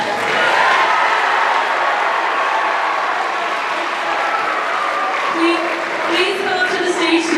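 A school auditorium audience applauds for the third-place winner of a Poetry Out Loud competition, dense steady clapping throughout with a voice speaking over it near the end.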